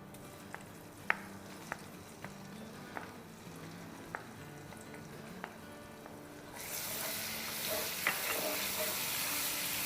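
Garlic, green chili and ginger pastes sautéing in a pan, a soft steady sizzle with occasional light clicks of stirring, growing into a louder, brighter frying hiss partway through.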